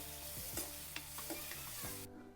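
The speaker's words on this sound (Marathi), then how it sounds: "आता मस्त कांदा पण चांगला परतून घ्यायचा" Onion and garlic sauté in a pan with a soft sizzle beneath scraping stirs and a few light utensil knocks, fairly quiet, ending in a sudden cut near the close.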